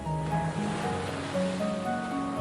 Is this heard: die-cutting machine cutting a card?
no